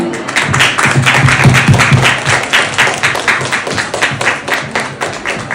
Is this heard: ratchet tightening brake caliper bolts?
no